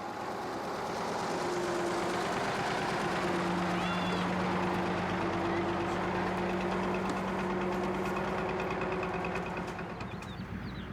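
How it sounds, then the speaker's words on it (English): A lorry engine runs steadily and loudly throughout while passengers board for travel along dirt tracks in the Mali savannah, a constant low rumble with a droning hum layered over it. "The engine must be running"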